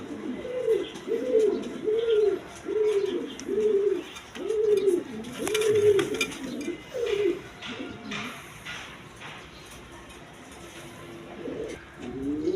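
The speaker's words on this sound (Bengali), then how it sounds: "এখানে এক পেয়ার রাজগোল্লা কবুতর আছে" A pair of Rajgolla pigeons, red checker, coos close by in a steady run of rhythmic, rolling calls for several seconds. The cooing then thins out and trails off into quieter background noise.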